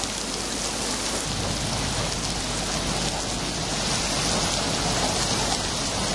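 Steady rain pours down in a dense, unbroken hiss of drops that stays loud and even throughout, with no voices.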